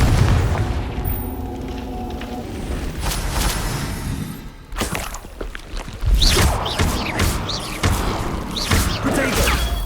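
Repeated Confringo blasting spell explosions in Hogwarts Legacy, loud booms and crashing impacts coming in quick succession with sharp cracks, thickest in the later seconds.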